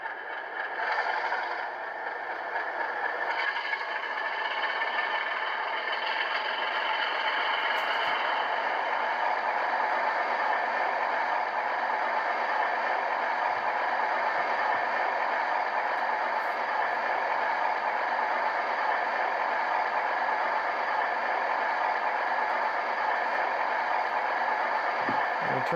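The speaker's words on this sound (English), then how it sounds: "So you'll hear it rev up." An HO scale Rapido FPA-4 diesel locomotive with an ESU LokSound decoder revs up sharply and then holds a steady, droning engine roar, with a faint rattle running through it the whole time.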